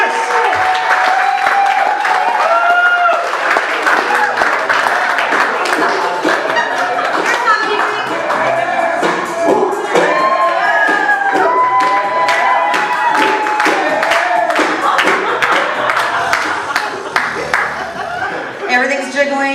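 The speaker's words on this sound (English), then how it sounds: "I want y'all to start clapping your hands right now." A live comedy show audience claps hands for a comedian, a quick, loud, rhythmic patter of many hands mixed with chuckles and cheering voices, steady and close throughout.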